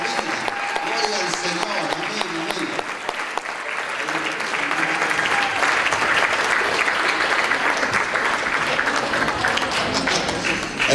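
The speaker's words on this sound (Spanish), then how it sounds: "Un fuerte aplauso con estas revelaciones que" A standing congregation at a national church congress applauds loudly for the apostle, sustained dense clapping that swells and holds, with a voice talking over the first few seconds.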